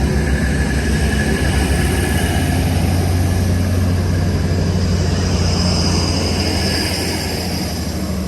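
Steady, loud rumble of a departing train engine close by at a station near Batley, England, a continuous low drone with a faint high whine, holding level before easing slightly near the end.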